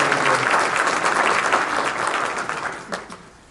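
An audience at an evening NAACP forum, gathered in a pastor's venue, gives a dense round of applause that stays steady and then thins out toward the end.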